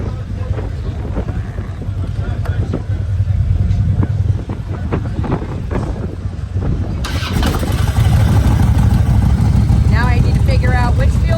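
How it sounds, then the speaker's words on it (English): A motorcycle engine starts partway through and settles into a loud, steady idle, heard outdoors on a blustery day at Daytona Beach Bike Week with heavy wind buffeting the microphone throughout. "it's that time again to get the bike started for the day"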